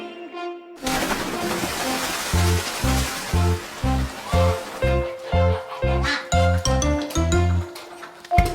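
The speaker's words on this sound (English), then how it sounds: "The ducks they go a quack, quack, swimming round in rings." Cartoon ducks quack repeatedly in a children's farm animal song, the quacks falling in time with a bouncy, steady musical beat.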